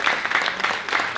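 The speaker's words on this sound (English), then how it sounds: "Let's hear a little cheer." Brief, dense clapping from an audience at a school alumni award ceremony, steady and fairly loud throughout with no voice over it.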